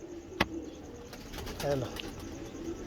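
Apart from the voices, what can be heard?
pigeons cooing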